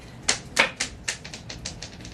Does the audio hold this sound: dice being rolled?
yes